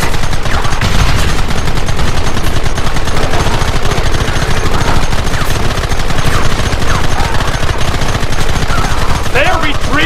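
Gunfire fills a battle scene in the Western video game Red Dead Redemption, with dense, continuous bursts of rifle and machine-gun fire, loud and close throughout, with scattered shouting mixed into the shooting.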